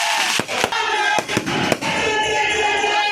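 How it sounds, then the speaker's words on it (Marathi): A night fireworks display at midnight at Mhow, the birthplace of Dr. Ambedkar: several sharp bangs ring out at irregular intervals over a steady background din. "रात्रीची फटाक्याची आतिषबाजी"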